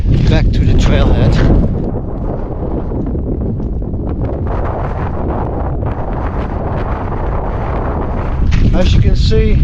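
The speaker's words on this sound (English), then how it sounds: "The wind has picked up again, quite strong actually." Strong wind gusting across an exposed rock shelf on Mt Anne, Tasmania, a loud continuous roar buffeting the microphone throughout, swelling louder at the start and end, with a voice speaking underneath.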